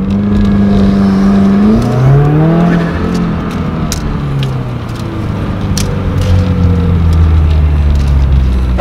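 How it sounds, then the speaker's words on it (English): A turbocharged car is brake-boosted in a parking lot, its engine revving loud and close, climbing in pitch then settling into a heavy, rumbling idle-rev with no talking. "Do a little quick brake boost in the parking lot."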